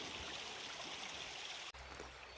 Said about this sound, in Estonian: Päris mitmed ojaksed voolavad ülevalt klindi poolt mereranda ja edasi Soome lahte.